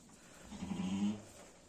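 A single short sheep bleat, close and moderately loud, from a ewe with her newborn lamb, over quiet background.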